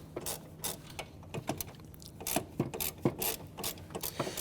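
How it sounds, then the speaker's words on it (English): Swivel-head ratchet turning a 10mm socket on a nut under the front of a 2011-2015 Kia Sorento 2.4 during AC condenser removal, giving repeated close, crisp clicking bursts of ratchet pawl strokes, moderately loud with short pauses. "10mm socket and our ratchet. Now I'm using a swivel head ratchet for clearance."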